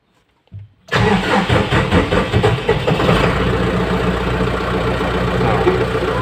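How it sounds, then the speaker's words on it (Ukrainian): A tractor engine, just repaired after a fault causing heavy oil consumption, cold-starts with a brief cranking burst, then catches and settles into a loud, steady diesel idle close by. "Зараз зробимо пуск, холодний пуск."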